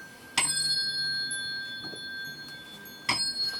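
Two brass tuning forks pitched to C, struck one after another about three seconds apart, each giving a clear bright ring with a sharp onset and a steady sustained tone that lingers between strikes.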